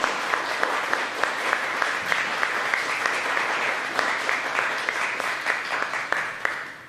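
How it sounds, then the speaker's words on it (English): Audience applause at a Prince George's County District 4 council candidates forum, a steady dense clapping that carries alone and unbroken for about seven seconds, with sharper individual claps popping out near the front. "Now you can applaud."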